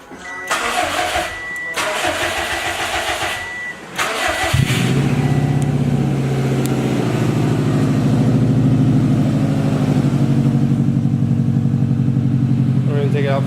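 A Subaru STi engine with freshly changed spark plugs cranks and fires up after a stretch of mechanical noise and voices, then settles into a loud, steady idle nearby.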